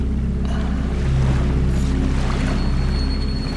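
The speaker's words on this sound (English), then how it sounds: "I awoke to the sound of waves washing on rock" Waves wash against rock on a shore in the video game Salt & Sanctuary, a steady, loud, low rumbling surge of water with continuous wash and no voices.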